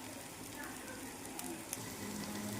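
Rice lightly frying in a pan for basanti polao gives a soft, continuous sizzle with faint stirring scrapes, steady and fairly quiet throughout.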